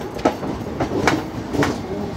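A train rolls by near Bhopal, India, running parallel with other trains, with rhythmic clickety-clack beats from wheels crossing rail joints, steady and fairly close.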